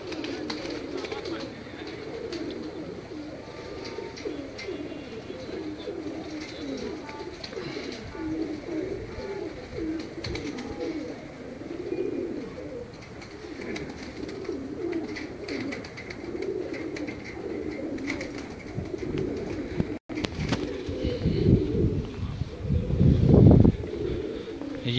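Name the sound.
pigeons cooing on a rooftop loft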